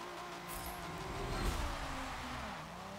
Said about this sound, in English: pretty nice sounding V6